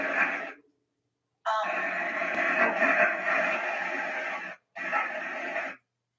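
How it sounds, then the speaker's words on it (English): A steady hiss of white noise from a phone app plays in bursts, starting and stopping abruptly with silent gaps between, moderately loud and even. "Can you hear the white noise?"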